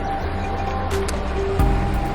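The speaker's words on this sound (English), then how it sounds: "I am here next to a creek." A creek at Capitol Reef flows in a steady, broadband rush close to the microphone. Light wind noise and a brief low thump occur near the end.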